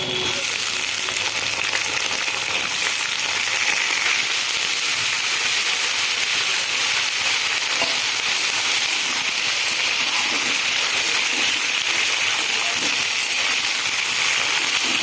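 Potatoes and ridge gourd fry in hot oil for a ridge gourd and poppy seed dish, a loud, even sizzle hissing without a break throughout.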